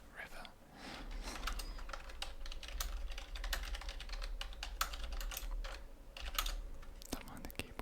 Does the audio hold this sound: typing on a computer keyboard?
yes